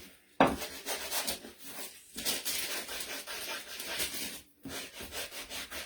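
A sanding block rubs back and forth across a wooden gingerbread man decoration in steady, close, dry rasping strokes, with a brief pause near the start and another short gap later.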